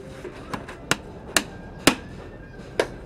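A hand tool pries nails out of a wooden crate in Mexico City, giving five sharp, close wooden knocks at uneven intervals over a quiet background.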